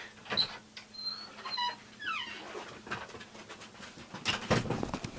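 A dog that has just come in from outside pants close by, with soft whimpers and short squeaky whines scattered through the rapid breathing.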